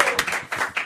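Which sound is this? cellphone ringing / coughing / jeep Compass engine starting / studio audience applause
studio audience applause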